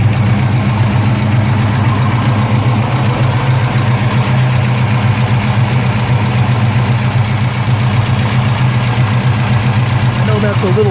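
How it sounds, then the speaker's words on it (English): A 1972 Chevelle with a 454 big-block idles steadily, a low rumbling drone with a fast ticking clatter of churning lifters running continuously close by. "You hear those lifters churning away."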